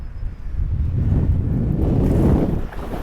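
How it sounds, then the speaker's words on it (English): Strong gusting wind roars across an open lake during early spring bass fishing, a loud continuous rumbling buffet on the microphone that swells and surges without a break, with no voices. "that wind is ripping right now, 20 plus mile an hour, 30 mile an hour gusts"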